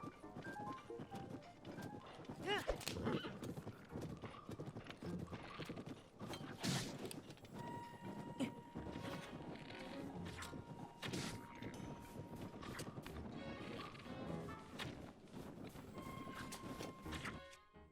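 Horse hooves clopping steadily with creaking and mechanical clatter in The Legend of Zelda: Tears of the Kingdom, fairly faint, rhythmic footfalls continuing throughout without talk.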